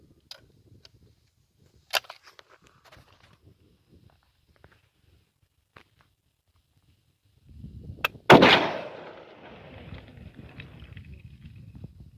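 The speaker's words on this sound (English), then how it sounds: "let's shoot with the 8mm Mauser 18x57 cartridge with this Turkish hybrid Enfauser Mauser" A Turkish hybrid Enfauser Mauser bolt-action rifle fires an 8mm Mauser cartridge: a few quiet handling clicks, then one sharp, loud shot with a rolling outdoor echo that fades over several seconds.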